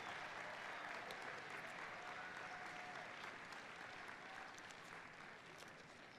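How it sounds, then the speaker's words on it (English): Crowd at an outdoor flame arrival ceremony applauding a torchbearer, a faint, distant, continuous patter of clapping that holds steady without voices. "Let's give a round of applause to Philip as he carries the torch towards 2nd Street"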